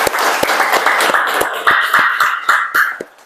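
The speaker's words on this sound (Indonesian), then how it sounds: "tepuk tangan untuk kita semua" Classroom applause from a group of students, a steady dense clatter of many hands with a few sharp individual claps standing out, fading at the end.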